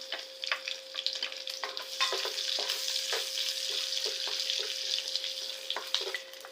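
Garlic fries in hot oil in a pan as the base for kimchi pasta, giving a close, steady sizzle with scraping stir strokes and a faint tone underneath, no talking.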